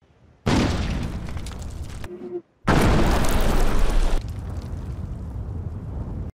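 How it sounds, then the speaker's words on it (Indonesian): Landmine blasts in a war film: two loud, heavy booms follow each other, the first lasting about two seconds and the second longer, each with a rumbling tail, separated by a brief quiet gap. "Namun naas mereka semua tewas di ladang ranjau dan Korpi berhasil kabur."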